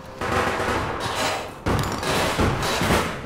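Rapid, loud, close bursts of shotgun fire in the game APB Reloaded, two dense blasts of gunfire back to back with a brief gap between them, no talk over them.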